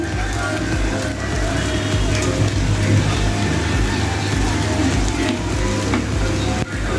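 Raw potato breakfast snacks fry in a little oil, giving a steady, close sizzle with some stirring and scraping as the pieces are turned, continuous and fairly loud throughout.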